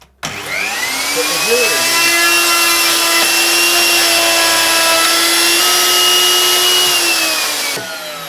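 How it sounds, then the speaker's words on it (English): An upside-down router, cable-tied into a homemade record-cutting rig, spins up to a steady, loud, high electric whine that holds for several seconds and then cuts off abruptly. "I've got my little rig here where it's a router attached upside down, cable tied on."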